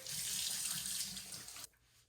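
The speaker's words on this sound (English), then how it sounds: "I'm going to rinse this off of my face really quick" Water runs steadily from a bathroom sink tap while a face is rinsed, splashing close and constant before it cuts off abruptly near the end, with no talking.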